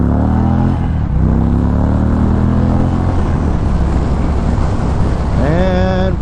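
An Indian Springfield Darkhorse motorcycle cruises under heavy wind rush, engine droning steadily, then revs up sharply in a rising acceleration near the end.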